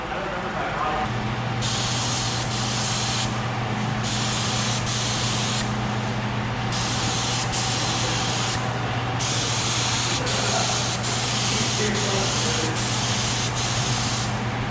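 A spray gun applies clear coat over a custom flake paint job on a forklift. It gives a loud, steady hiss and keeps spraying without a break. A constant low hum runs underneath, and the top of the hiss changes as the gun moves.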